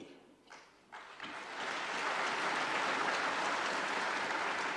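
Applause rises from a crowd at a Delhi press conference with RSS chief Mohan Bhagwat, swelling from a few scattered claps into a loud, sustained ovation.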